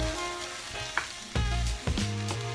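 Garlic and mushrooms fry in a pan for a chicken and mushroom cream pasta, giving a steady close sizzle with a few sharper clinks and scrapes from stirring. No one speaks.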